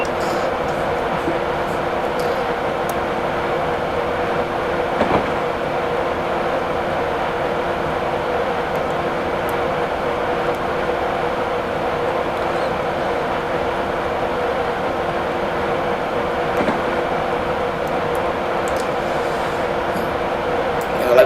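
Train rolling steadily in Train Simulator 2017, a constant rumbling cab drone with faint rhythmic clicks of wheels over track joints, continuous and even throughout.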